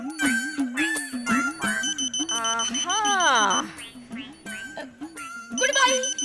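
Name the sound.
wristwatch alarm going off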